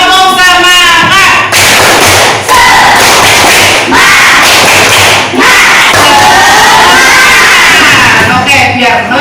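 Classroom of children doing a loud rhythmic clapping cheer, repeated thumping claps mixed with shouted chanting voices, close and energetic throughout.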